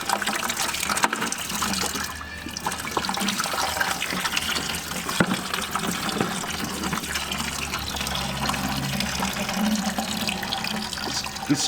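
Bright pink coolant gushes and splashes steadily from a Lamborghini, a continuous watery pour like a running tap, fairly close and loud.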